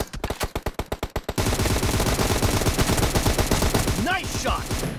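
Rapid bursts of automatic gunfire from an M4 or M7 rifle in a PUBG team deathmatch, sharp regular shots at first, then a dense, continuous, loud volley with a brief voice-like call near the end.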